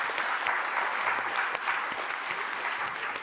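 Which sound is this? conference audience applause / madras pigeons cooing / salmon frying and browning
conference audience applause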